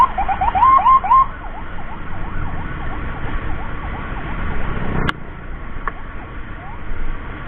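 A Mitra Medika emergency ambulance siren wails loud and close in steady rising-and-falling sweeps over road noise, with one sharp click partway through.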